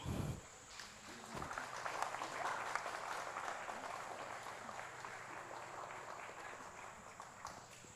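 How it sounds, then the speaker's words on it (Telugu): Audience applause to thank the goddess at a Navadurga devotional gathering, a sustained crowd clapping that starts after a brief thump and holds steady, moderately distant, without speech over it. "అందరూ చప్పట్లు కొట్టి అమ్మవారికి థ్యాంక్స్ చెప్పండి"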